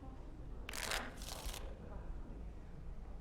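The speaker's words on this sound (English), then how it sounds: "Before we start, the cards must be shuffled." Playing cards shuffled by a character in the video game Dragon Age: Origins: two quick riffling bursts, soft and close, over a low steady background hum.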